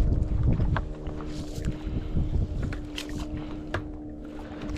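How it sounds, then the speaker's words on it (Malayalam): A northeast wind rushes steadily over a fishing boat drifting at sea, a continuous low roar of gusts and hull noise with no voices. "വടക്ക് കിഴക്കൻ കാറ്റാണ് ഇപ്പോൾ വീശുന്നത്"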